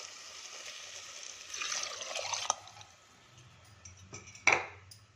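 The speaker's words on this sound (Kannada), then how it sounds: "2 ಕಪ್ಗೆ 4 ಕಪ್ ನೀರು ಹಾಕ್ತಾಯಿದ್ದೀನಿ." Four cups of water poured onto rice and split moong dal in a pot for khichdi: a soft trickle that swells into a louder pour, then a faint clink of a vessel near the end.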